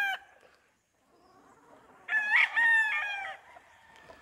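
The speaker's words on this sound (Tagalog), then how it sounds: "Ang daming mga manok," A rooster crows loudly in a long, strained call, with softer clucking and farmyard chicken sounds before and after, among Gilmore-breed chickens on chicken terraces in Guintubdan, Negros Occidental.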